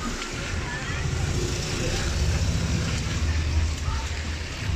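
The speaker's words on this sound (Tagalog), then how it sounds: "Mukhang walang pag-asang tumigil ang ulan din eh." Continuous rain falling outside near a shop: a steady, broadband hiss of rain on surfaces, close and constant, with occasional low rumbles and speech nearby.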